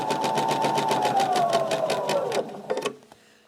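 A sewing machine chain-pieces quilt blocks, running in a fast, even, loud stitching rhythm that slows slightly and stops, followed by a few quick closing clicks and taps.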